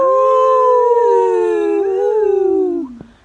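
A voice imitates a wolf howl in a long, loud, wavering 'ow' that slides slowly downward over about three seconds, then breaks off at the end.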